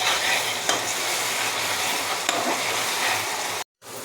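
Spice paste sautéing with salt and turmeric for a thin goat-meat and potato curry, a steady close sizzle with occasional scraping stirs, cutting out briefly near the end.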